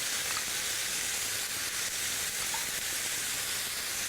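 Vegetable stock, boiled with vegetables and wine, is poured onto lentils and spices in a hot pan, giving a steady loud hiss and sizzle that runs unbroken throughout with no speech.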